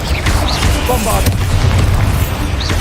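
A Bombarda blasting spell detonates in Hogwarts Legacy, a loud, dense booming explosion that fills the whole stretch with rumble and crackle, heavy low-end throughout, with a faint voice in the mix.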